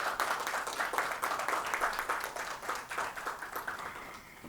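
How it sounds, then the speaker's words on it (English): Audience applause at a food writing prize announcement, a steady round of clapping from a crowd that gradually thins and fades toward the end. "Can we have a round of applause for them"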